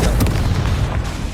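A Confringo spell explodes in Hogwarts Legacy on PS5, a loud, deep, rumbling boom with a sharp burst at the onset that rolls on for over a second.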